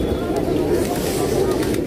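Pigeons coo softly at Boudha Stupa in Kathmandu, Nepal, a low continuous murmur of birds close by under people talking.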